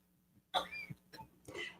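A person coughs a few times in quick succession, close and fairly loud, with a rough throat-clearing quality against a quiet background.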